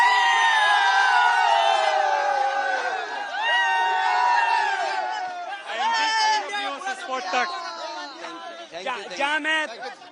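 A packed cricket stadium crowd in India roars and cheers at a World Cup match against South Africa, loud and close, with many voices shouting, whooping and chanting over one another.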